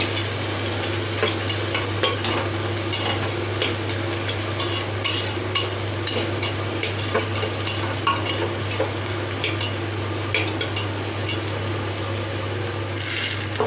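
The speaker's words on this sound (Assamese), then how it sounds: "অলপ টাইম ভাজি ল'ব লাগিব।" Cashews sizzle steadily in hot ghee, a constant crackling fry with occasional stirring scrapes and a low hum underneath.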